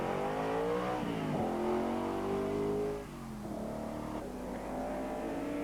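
TVR Tuscan race cars roar around Silverstone in 1994 racing, one loud engine note climbing and falling as the driver works through the gears, with a drop in volume after a few seconds as the sound shifts.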